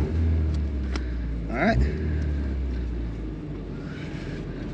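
Supercharged 3RZ engine in a vintage four-wheel-drive Toyota Sunrader accelerating, a steady low rumble that swells briefly under load, heard from inside the cabin beneath a short spoken remark and cheering.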